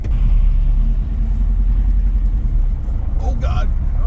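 A 1950 Ford Police Special on its first drive, with a deep, steady engine rumble heard close from inside the car and a brief voice near the end.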